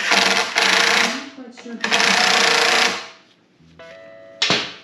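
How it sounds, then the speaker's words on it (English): A bolt is tightened down on a Lawn Boy lawn mower with a powered driver, heard as loud, close whirring bursts of a second or so each, separated by brief pauses and ending in short clicking spurts. "And then we'll tighten it down."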